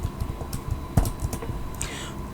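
Quick keystrokes clatter on a computer keyboard while entering a short command into a Python console, a fast, close patter of soft clicks over a low steady hum.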